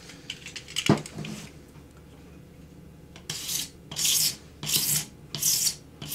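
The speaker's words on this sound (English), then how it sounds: "I'm going to scrape one edge and I'm going to polish the rest." A sharp blade scraping along the edge of a plexiglass sheet, heard as a run of about five close, rasping strokes in a steady rhythm after a brief clack, fairly loud against a quiet background.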